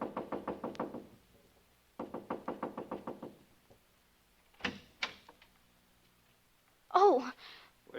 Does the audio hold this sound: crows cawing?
no